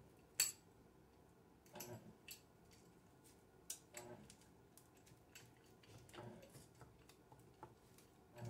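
Utensil cutting cracker dough in half in a pan, heard as a few faint, scattered scraping and clinking taps against the pan, separated by quiet pauses with no voices.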